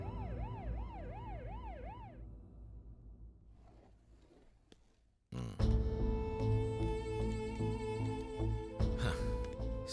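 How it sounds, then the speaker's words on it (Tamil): An ambulance siren sounds in a rapid rising-and-falling wail, fairly close, then fades away; after a pause, loud dramatic music from a Tamil film scene takes over. "ஆம்புலன்ஸ் வந்தாச்சுமா."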